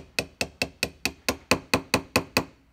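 About a dozen sharp, evenly spaced metal taps ring out close up as a punch is hammered to drive a small part into an SU carburetor float bowl on a barn-find Volvo Amazon.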